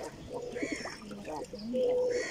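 Pigeons coo softly and repeatedly nearby while being fed cooked rice in the morning, low warbling calls mixed with a voice murmuring in the background.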